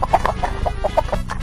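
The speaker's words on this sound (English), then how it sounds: "Rooster." A farm rooster clucks in a rapid series of short, close, fairly loud calls, with low background rumble underneath.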